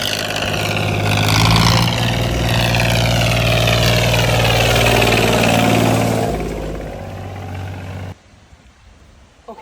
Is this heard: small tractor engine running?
yes